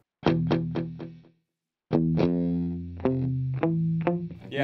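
Electric guitar played through a CTC Sidekick Jr pedal set to delay, a few distorted strummed chords and notes, each repeated and trailing in echoes, with a brief silent gap in between.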